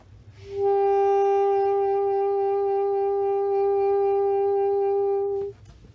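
A long sustained instrumental note, a concert G played with vibrato, held for nearly five seconds with a smooth, even tone, played alone and ending abruptly.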